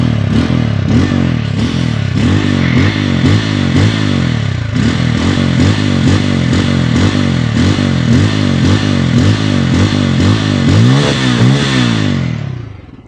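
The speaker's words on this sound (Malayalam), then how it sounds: "സോ ഇതിൻ്റെ എക്സോസ്റ്റ് ആയിട്ടും കൂടി നമുക്ക് കേട്ടു നോക്കാം" A Bajaj Pulsar N250 single-cylinder budget motorcycle idles and revs through its twin-exit exhaust, a loud close thumping note with repeated throttle blips and rising revs before the engine cuts off near the end.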